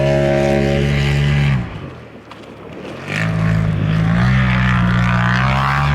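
A tuned Polaris RZR Pro EVO side-by-side with a studded setup on an ice track, loud engine revving hard with a steady high drone, dropping off briefly mid-clip before climbing back to full revs.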